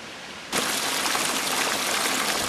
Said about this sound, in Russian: Течение ручья вообще бурное.